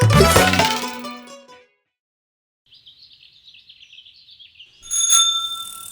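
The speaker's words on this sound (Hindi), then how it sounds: "हम ना मंदिर में घंटा बजा के आते हैं" A bell rung at a Hindu temple gives a bright, sustained metallic tone near the end, following a stretch of loud music and a quieter warbling tone, with a ringing decay.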